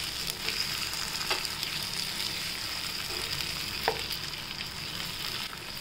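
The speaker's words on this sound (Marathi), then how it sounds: "तेल सुटेपर्यंत परतून घ्यायचं." Brinjal and green ground masala sauté in oil for a salty Maharashtrian-style gravy. A thick, steady sizzle fills the clip, close and even, with a few faint stirring knocks and no talking.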